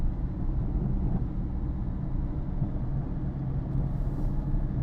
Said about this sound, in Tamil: third to 4th gear change பண்ணிக்கிறேன்